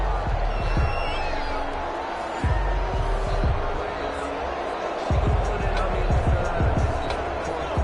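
In a Madden football video game, a stadium crowd roars and cheers steadily under a play-by-play commentator's voice, with several sharp thuds and bursts rising out of the crowd noise.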